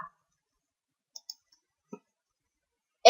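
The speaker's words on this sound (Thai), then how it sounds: "โดยดับเบิลคลิกนะคะ" A computer mouse is double-clicked while setting up a circuit in OrCAD 16.5: two quick, crisp clicks in near silence, with a few fainter isolated clicks and a louder one at the end.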